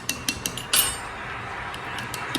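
A spoon clinks against a metal pot in a few sharp taps near the start, followed by a brief scraping clatter, then a quieter low kitchen background with faint occasional ticks.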